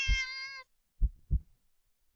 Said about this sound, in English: The cat meows at you again, but sounds much deeper than earlier.